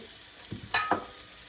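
Onion and spices fry in a little oil in a pot for chicken with mung dal, a soft sizzle broken by a few short, close stirring scrapes.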